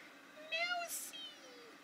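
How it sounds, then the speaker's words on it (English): A kitten meows faintly indoors, giving a couple of thin, high, wavering cries with a soft pause between them. A brief burst of noise sits between the cries, and the room is otherwise quiet. "Oh, we got a kitten guest."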